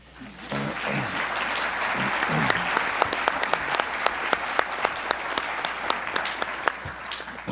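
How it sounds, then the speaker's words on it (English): An audience at a governor's announcement in New York State breaks into applause that swells and holds steady, with sharp individual claps standing out near the microphone and some talk at the start. "You can clap, go ahead."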